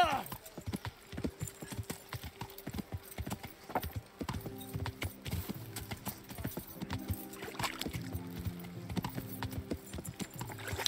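Horse hooves clip-clopping steadily in Kingdom Come Deliverance, a continuous trotting rhythm at moderate volume over soft game music, with occasional talk over it.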